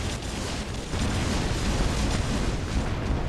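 An explosion in the War Robots video game produces a dense, roaring rumble that runs continuously and swells slightly partway through, with no speech over it.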